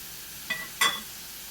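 A spoon stirs spice powders into onions sautéing in a pan for stuffed capsicum, giving two brief, close scraping strokes over a faint, steady sizzle.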